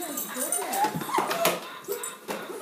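A dog whines in several high, wavering whimpers close by, mixed with people talking over the top.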